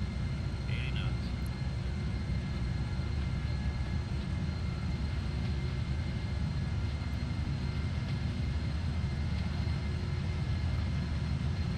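Boeing 747F jet engines spooling through a takeoff roll in Flight Simulator X, a steady broad low roar with a faint high whine, constant and loud throughout.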